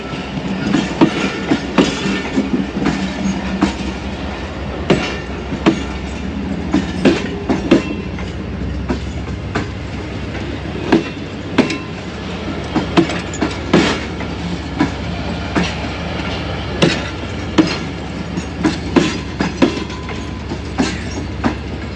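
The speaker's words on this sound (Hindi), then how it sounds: "ये जो जॉइंट सामने नज़र आ रहा है इससे ये ज़बरदस्त ट्रैक साउंड्स पैदा हो रही हैं।" Passenger train carriages of the Allama Iqbal Express economy service clack rhythmically over rail joints, sharp repeated wheel impacts over a steady rolling rumble, close and loud, with no talk.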